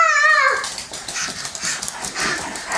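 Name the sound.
Dog whimpering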